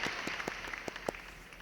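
Sparse, faint clapping from a small audience at a university CAD/CAM design competition awards announcement: a handful of scattered, separate claps spread over a quiet, distant-sounding background.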